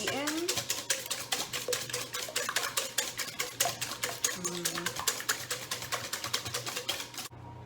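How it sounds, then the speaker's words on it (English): Eggs with salt and pepper are whisked briskly in a bowl for the Filipino dish tortang talong, giving a fast, steady run of rhythmic clinking strokes that stops abruptly near the end. "I'm just going to whisk that up until it's nice and beaten"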